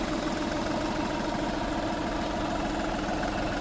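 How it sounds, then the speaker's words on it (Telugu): A 2014 red Volkswagen Polo diesel car engine idling smoothly, a steady continuous rumble with even low vibration, close and alone with no talk. "డీజిల్ ఇంజిన్ అండి ఇది ఇప్పుడు ఇబ్బంది ఏమీ లేదు"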